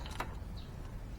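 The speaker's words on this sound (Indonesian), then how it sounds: "Kemudian kita pisahkan silinder head dengan silinder bloknya ya. Kita tarik aja." A cylinder head lifted by hand off the cylinder block of a Honda Revo Absolute motorcycle engine gives one brief, soft metallic scrape and clunk near the start, then a faint low background hum with no talk.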